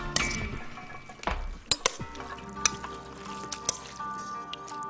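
Crab noodle salad with cucumber, radishes and dressing tipped out of a container into a big serving bowl, with wet squishy slides, a few sharp clinks and taps against the dish, close and fairly clear.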